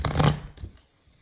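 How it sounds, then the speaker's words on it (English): A deck of tarot cards gets a quick, soft riffle-shuffle: one brief papery burst up close that fades to near silence within a second. "as I shuffle the cards,"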